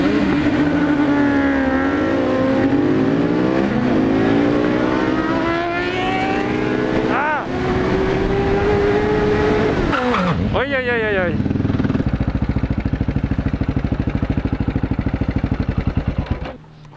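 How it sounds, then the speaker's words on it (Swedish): Sport motorcycles, an R1 and an S1000RR, drag racing: engines rev hard with rising and falling pitch through repeated gear changes, loud and close, with wind noise and voices talking over it. "Och jävlar, det är drag race!"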